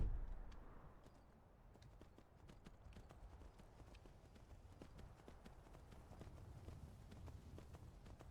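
Steady clip-clop of horse hooves at a trotting pace in the video game Skyrim, moderately close, with a low rumble beneath and no talking.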